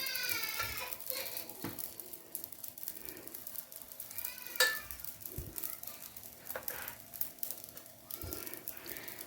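Rolled mhajeb dough laid on a hot crêpe pan gives a steady, soft sizzle throughout, broken by a few light knocks and one sharp brief clatter near the middle.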